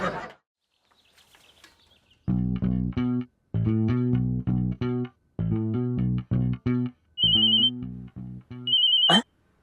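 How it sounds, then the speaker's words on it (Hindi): A melodic phone ringtone plays repeated bursts of electronic tones in a steady rhythm, with a high beeping note cutting in near the end. "फोन आ गया।"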